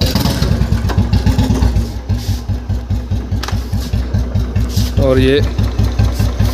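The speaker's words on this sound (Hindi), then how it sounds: "सबसे पहले आपने इसको अपने बुलेट को स्टार्ट कर लेनी है" An old Royal Enfield Bullet motorcycle idles after being started, its single-cylinder engine thumping in a steady, loud dug-dug rhythm up close, with someone briefly speaking over it.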